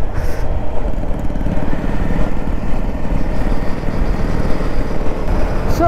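A motorcycle rides along near Biswa Bangla Gate, its engine a loud, steady droning rumble mixed with wind buffeting, continuous for several seconds without any talk.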